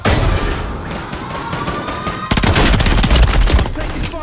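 Enemy gunfire in the video game Warzone, loud bursts of rapid automatic shots that rattle on throughout, growing denser partway through among in-game sounds.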